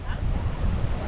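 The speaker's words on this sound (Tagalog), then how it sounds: "Grabe malakas ang hangin dito mga idol" Strong wind blows at the coast, a loud, blustery rumble buffeting the microphone, with a hiss like surf, for a short burst.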